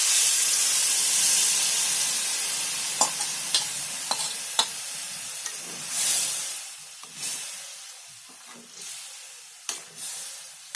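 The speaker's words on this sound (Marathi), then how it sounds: "बटाटे अशी चांगली तेलामध्ये फ्राय करून घ्यायची 2 मिनिटं. आणि त्याच्यामध्ये आता मी पालक टाकते." Potatoes frying in oil with spinach paste added, a steady hissing sizzle with occasional scrapes and taps of a spoon stirring the pan, close up and alone.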